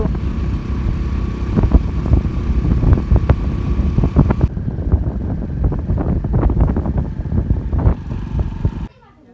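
Strong headwind buffets the microphone in a continuous roar, with a vehicle engine rumbling underneath as the vehicle struggles to move; the noise cuts off abruptly at the end.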